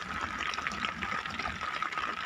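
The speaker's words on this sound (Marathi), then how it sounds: "आपलं तालपत्रीपासून पाणी खाली गळत आहे" Rainwater from a night-time unseasonal rain pours and drips off a tarpaulin on a farm, a dense steady patter and splatter close by that continues throughout.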